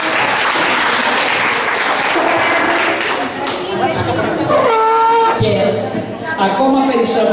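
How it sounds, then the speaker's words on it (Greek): Members of a seniors' choir receive loud, sustained applause from an audience in a hall, dense close clapping mixed with crowd chatter and a few voices calling out. "Να τους χειροκροτήσουμε μια δυνατή."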